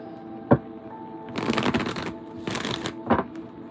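Tarot oracle card deck being shuffled by hand in a quiet room, with two brisk riffling bursts framed by a few sharp taps of cards against the table.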